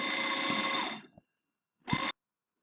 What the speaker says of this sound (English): some neighbor managed to get the fire alarm started